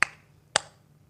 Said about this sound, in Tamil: கையை தட்டிட்டான்.